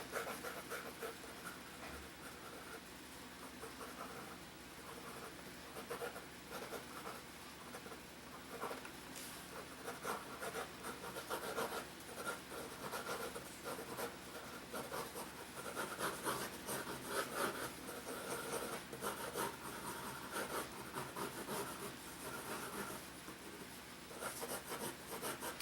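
Loose, gestural comic art lines being drawn, a continuous soft rubbing and scratching of pen or pencil on paper in steady overlapping strokes, close and quiet.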